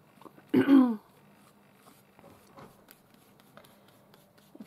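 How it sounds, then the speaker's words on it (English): A single harsh cough bursts out near the start, then only faint quiet rustling and soft ticks follow. "If you do hear coughing during this video, that is not mine."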